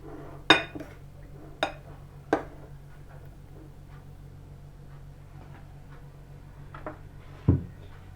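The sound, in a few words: stirring meat and pickle mixture in a bowl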